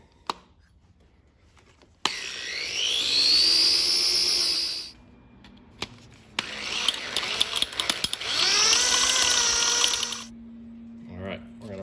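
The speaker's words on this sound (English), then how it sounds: "All right, gonna drill some more." A power drill bores into a broken bolt on an LS exhaust manifold in two long bursts, its pitch rising as the motor spins up. Each burst cuts off sharply, with quiet clicks and handling noise between them.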